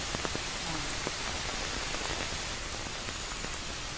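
Steady rain falling in a forest at an overnight camp, a dense, even patter of drops hitting surfaces close by, continuous and fairly loud with no talking.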